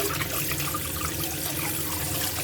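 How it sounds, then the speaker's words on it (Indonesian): Cleaned carp with gills removed being washed under running water, a steady loud splashing and trickling that continues unbroken throughout with no talk. "Nah, kita cuci bersih semuanya."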